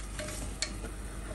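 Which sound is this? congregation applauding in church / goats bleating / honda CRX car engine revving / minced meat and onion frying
minced meat and onion frying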